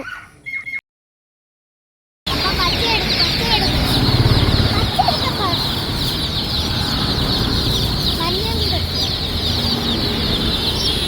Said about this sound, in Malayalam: കുറേ കളർഫുൾ കോഴിക്കുഞ്ഞുങ്ങളുണ്ടായിരുന്നു.